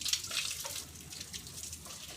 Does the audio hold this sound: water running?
yes